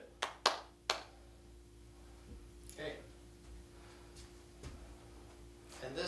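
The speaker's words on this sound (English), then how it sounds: "clap your hands for me once" Three sharp hand claps close together near the start, a single person clapping on request in a quiet room, with low background hum and faint voices afterward.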